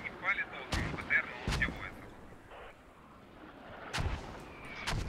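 Mortar fire in a tactical military video game match: several sharp, distant-sounding blasts spaced a second or two apart, with faint radio-like chatter and game noise in between.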